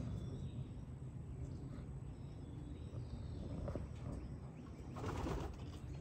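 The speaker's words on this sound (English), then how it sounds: "These are all good racing pigeons, very good." Racing pigeons, including black and pure white birds, coo softly in a loft over a steady low rumble of background noise, with faint wing shuffles and a slightly busier burst near the end.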